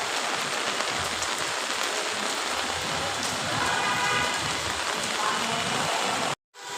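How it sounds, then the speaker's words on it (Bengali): Heavy rain pours steadily in the Dhanmondi area, a dense, continuous roar of water hitting surfaces at close range that holds a constant level before cutting off abruptly near the end. "অনেক বৃষ্টি হচ্ছে দেখেন"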